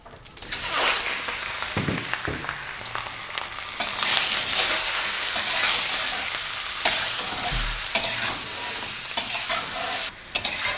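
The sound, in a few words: mutton (dumba) pieces frying in hot fat for karahi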